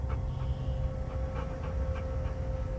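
Soft, intermittent whimpers from a poor pup in the game Hell Is Us, faint and scattered over a steady low hum and a continuous tone.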